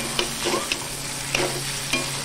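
Browned onion and freshly added tomato fry in a pan for a mung dal amti, a close sizzle broken by several sharp spatula scrapes and spits.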